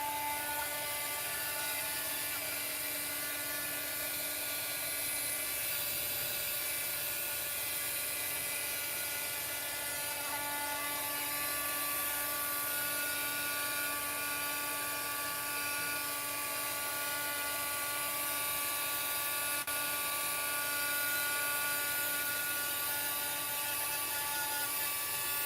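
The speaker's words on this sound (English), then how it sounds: "If my heat gun stays loud," A continuous mechanical whine and blowing hum runs steadily with no breaks, like a heat gun running nearby at constant speed.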